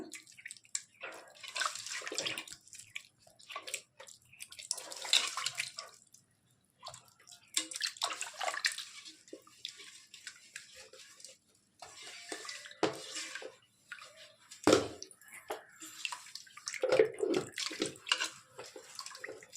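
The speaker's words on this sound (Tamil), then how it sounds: "உப்பு போட்டு கையாலேயே இப்படி கிண்டி விடுங்க தக்காளியெல்லாம் நல்லா கரைச்சி விட்ருங்க" Ripe tomatoes squished and mashed by hand with salt and turmeric for a ghee fish kulambu, giving wet squelching and dripping sounds in irregular bursts, close and moderately loud, with no talking.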